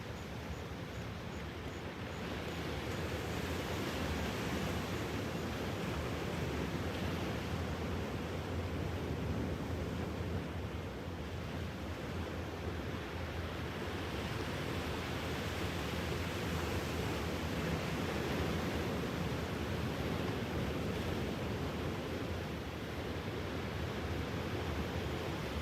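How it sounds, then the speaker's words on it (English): Steady broadband wash of ocean surf, continuous and fairly loud throughout, with no distinct breaking crests, like waves rolling in from nearby on a humid, salty shore. "Even the ocean right now is calming down."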